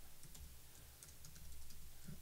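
Quiet, rapid typing on a computer keyboard, a stream of soft clicking keystrokes over about two seconds, with no voices.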